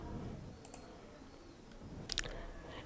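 A few quick, faint computer mouse clicks on a quiet desk, one short pair early and a brighter cluster later.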